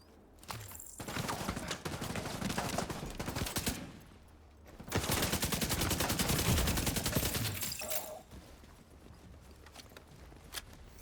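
Sustained minigun fire in the video game The Division 2, two long dense bursts of rapid gunfire separated by a short pause, loud and close with game effects around it.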